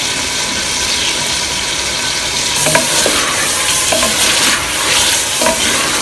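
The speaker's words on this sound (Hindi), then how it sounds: "अब चिकन को अच्छी तरह भून लेंगे।" Chicken pieces frying in a pan while being stirred, a loud continuous sizzle with scraping and clattering strokes of the spoon recurring every second or so, with no talking.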